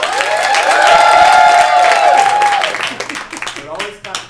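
A live audience at a comedy or improv show claps and cheers together in a loud burst that swells and fades over a few seconds, with voices mixed into the crowd noise.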